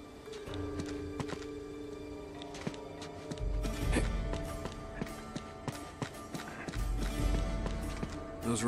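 A horse gallops in the video game Uncharted 2, its hooves drumming in quick, uneven beats that grow louder midway, with music and ambient effects in the background.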